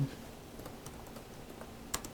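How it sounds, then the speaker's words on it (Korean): Keys clack on a computer keyboard as an address is entered into accounting software, a quick, fairly soft run of taps with one sharper keystroke near the end, with no talking. "타이핑하면 되죠."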